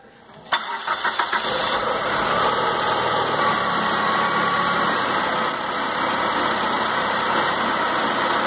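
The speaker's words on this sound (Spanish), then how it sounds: "Al parecer se escucha bien el carro" A car engine cranks and fires after about half a second, then settles into a steady, close idle that runs to the end, during an old-school misfire diagnosis with loosely fitted ignition wires.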